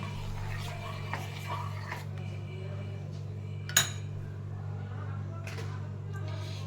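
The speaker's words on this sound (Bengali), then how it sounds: "দিয়ে চামচ দিয়ে একটু নাড়বো" A spoon stirring and clinking against a glass of milk, light scattered chinks over a low steady hum, with one sharper clink midway.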